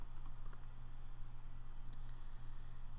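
Quiet, steady tapping on a computer keyboard while Swift code is entered in Xcode, with a few clustered keystrokes over a constant low electrical hum.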